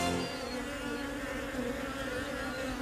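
Solitary bees buzzing around a garden, a steady close drone with a sustained pitch that hovers continuously, fairly quiet and alone without any talking.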